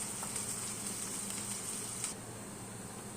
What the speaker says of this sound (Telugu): ఉల్లిపాయ కొద్దిగా బాగా వేపుకోవాలి.